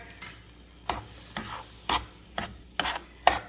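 Butter melts in a pan for caramel sauce, making a soft background sizzle broken by regular scraping stir strokes about every half second, fairly close and with no talking.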